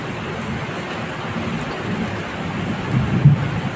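Steady rain hisses over a low rumble of thunder that swells briefly near the end, with no voices.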